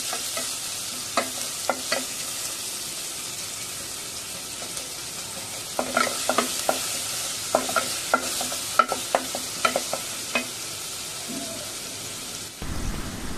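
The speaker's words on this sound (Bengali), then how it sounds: "গরম তেলটাতে এবার পেঁয়াজ আর রসুন কুচিগুলো দিয়ে দিচ্ছি।" Chopped onion and garlic fry in hot oil, giving a steady close hiss with clusters of crackles and spatula stirs, then a louder patch of scraping before the sizzle cuts off near the end. No one speaks.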